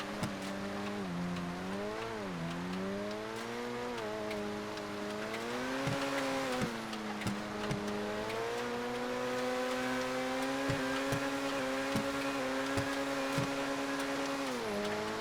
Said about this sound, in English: It is fun to slide the cars around